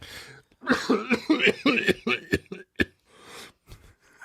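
A string of several short, harsh coughs in quick succession, close and fairly loud, trailing off into a few softer breaths.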